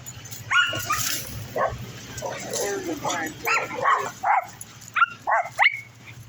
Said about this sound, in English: You hear our guard dogs.